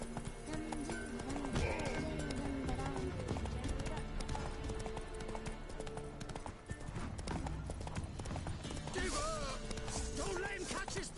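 Galloping horse hooves in The Witcher 3 video game, a steady clip-clop running loud through a dense mix of game music and effects, with a brief whinny and a voice speaking over it.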